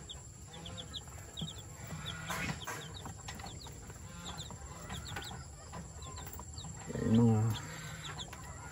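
Chickens cluck softly around a red rooster and chicks in a rural yard, with faint bird calls throughout and a louder burst of clucking near the end; a person speaks briefly.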